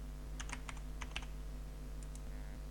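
Keys clack in a few quick bursts and then scattered single taps on a computer keyboard, with a steady low electrical hum running underneath throughout.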